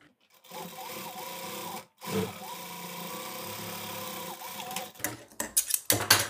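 A sewing machine stitches a Sabyasachi-style blouse with lace, whirring steadily for about a second, pausing, then running a longer continuous stretch before ending in a few short, uneven bursts.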